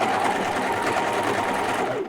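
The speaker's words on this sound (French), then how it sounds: "Je sais pas si ça fait pas trop de bruit, la surjeteuse." A serger (overlock sewing machine) runs steadily and fairly close, a continuous dense whir during home garment sewing that holds the same pitch throughout, then stops at the very end.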